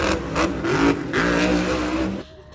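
A toy monster truck or ATV makes a short, close burst of engine revving that rises and falls a few times, then cuts off abruptly.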